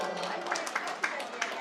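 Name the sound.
applause at a religious gathering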